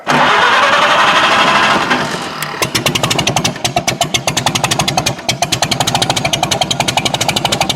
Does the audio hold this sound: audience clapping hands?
no